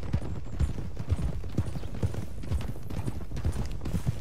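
Horse hooves clip-clop in a steady walking rhythm at the stables in the Red Dead Redemption 2 video game, the hoofbeats close and clear over a soft ambient background, with no talking.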